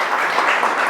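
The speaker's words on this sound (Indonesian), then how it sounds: "tepuk tangan dulu untuk Oki" A classroom group gives a short burst of applause for a student named Oki, close, loud, blended clapping from several people lasting about a second.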